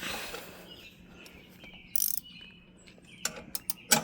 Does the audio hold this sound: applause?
no